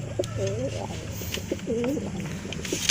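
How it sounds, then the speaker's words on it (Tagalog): Pigeons in a new loft of year-old breeding birds give repeated rolling coos, two clear bursts close by over a steady low hum, with soft rustling between. "Yan, ito mga kalapatids"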